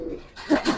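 Giribaz pigeon cooing, the female of a pair in a loft, giving two short soft coos close by after a low murmuring start, with no talk over it.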